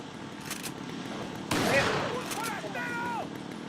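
Gunfire in the Resident Evil 4 video game on Wii, a burst of muffled shots followed by a louder blast, with game sound effects and people talking over it.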